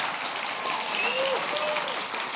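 A large live audience at a public broadcast event in St. John's applauding steadily, a dense sustained wash of clapping with a few faint whistles and cheers on top.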